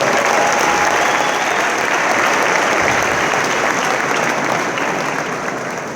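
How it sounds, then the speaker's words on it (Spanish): Dense, loud applause from a seminar audience cheering the technical crew at a coaching training event, a continuous wash of many hands clapping that holds for six seconds and eases slightly at the end. "así que démosles un aplauso a ellos."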